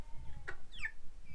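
Orpington chickens, show-quality hens, cluck softly nearby in two short calls against a low rumbling background.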